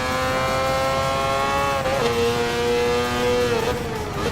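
Mazda 787B Group C race car engine in Gran Turismo Sport, a loud steady high-pitched rotary scream with rich harmonics, dipping briefly as it shifts or lifts, continuous and close with no talk.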